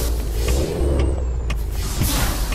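A Ford Cargo truck in Euro Truck Simulator 2 gives a brief loud air-brake hiss over a steady low engine rumble, heard close and without talk.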